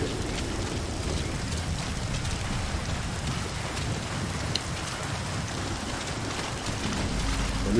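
Heavy, continuous rain in the video game Metal Gear Solid V, a dense, steady roar of downpour that holds at an even level throughout, with no voices.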